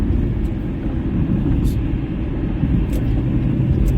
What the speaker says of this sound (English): I'm trying to dodge this semi truck